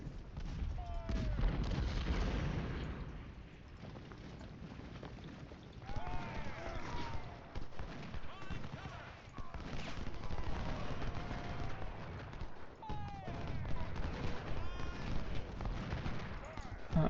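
Gunfire and artillery shots from the Civil War strategy game Ultimate General: Civil War at Chickamauga, irregular booms and volleys rolling through a dense battle din, with someone talking over parts of it.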